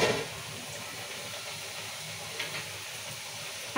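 Rice flour pappu chekkalu frying in hot oil, giving a steady, fairly quiet bubbling hiss and sizzle that runs throughout, with a couple of slightly louder crackles.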